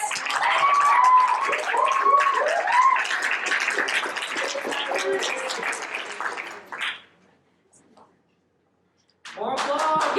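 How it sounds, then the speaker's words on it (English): Audience applause and cheering at a poetry slam, loud and sustained for about seven seconds with a cheering voice over it, then it cuts to near silence before a short burst of sound returns at the end. "but first, manual applause for Alex."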